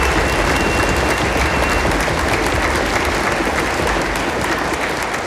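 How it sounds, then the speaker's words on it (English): A concert audience at a high school fall orchestra concert claps loudly for the accompanist, a dense, continuous burst of applause filling the whole stretch at a steady level with no speaking. "Can we give her a big round of applause, please?"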